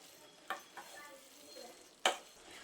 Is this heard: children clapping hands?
no